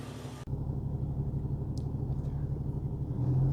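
Steady low rumble of a car cruising on a night road, heard from inside the cabin, with a continuous engine and road drone after a brief cut at the start.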